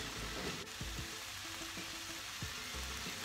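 Vegetables for ravioli sautéing in a pan, a steady close sizzle with soft scrapes and stirring sounds throughout, no voices.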